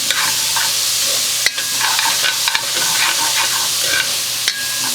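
Onions sizzling in a jambalaya pot, cooked camp style, with a dense continuous fry and repeated stirring scrapes and knocks of a utensil against the pot, close and loud, no talking.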